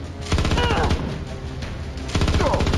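Suppressing gunfire in the turn-based space game Star Traders: Frontiers, two loud bursts of rapid automatic shots separated by a short gap.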